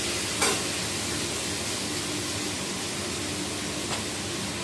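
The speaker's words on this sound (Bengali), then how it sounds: "তো আমি আলুটা আগে ওই জন্য ভেজে নিয়ে বেরিয়ে যাবো" Potatoes frying in a pan give a soft, continuous hiss at low level, with a couple of brief clicks from a utensil, no talking.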